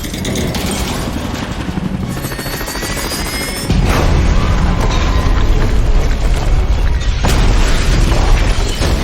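A helicopter in an action film scene thunders with heavy rotor noise, joined partway through by a deep boom as the roar grows louder, and a second hard impact near the end.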